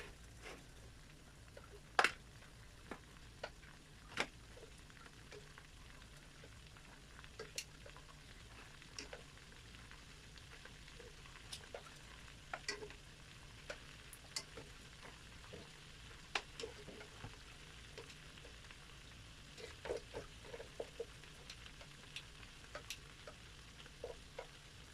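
Chicken browns in a pan with butter and garlic, giving a soft, quiet sizzle broken by scattered clicks and taps of stirring.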